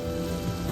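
Mustard seeds sizzling in hot oil in a pan on medium heat, a brief, steady crackling hiss close up.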